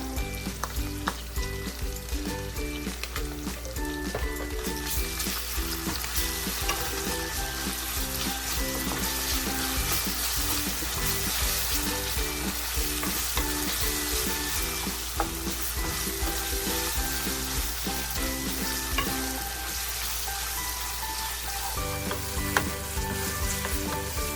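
Curry leaves and ginger-garlic paste crackle in hot oil with a dense, loud, unbroken sizzle, mixed with occasional stirring scrapes, close up and continuous throughout.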